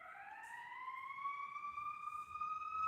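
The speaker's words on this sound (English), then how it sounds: "Fuck you, sirens." A siren wails with a steady rising tone, heard from a distance, faint but clear over quiet background noise.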